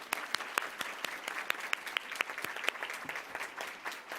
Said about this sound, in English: Another warm round of applause for Fran Frazier, Camille Quinn, Aaliyah Hor